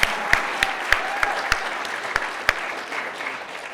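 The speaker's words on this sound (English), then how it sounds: "Let's clap it up for that." Scattered, sparse clapping from a small audience at an NDEAM 2022 event, a handful of distinct claps spaced out over a few seconds with a faint room murmur beneath.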